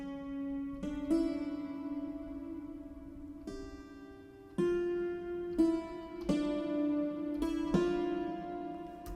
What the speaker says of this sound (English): So the melody is being played in the hammered dulcimer,